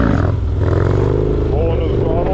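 A Harley-Davidson Dyna motorcycle engine rumbles loudly and close, revving up with rising pitch as it lifts into a wheelie, while a voice speaks over it.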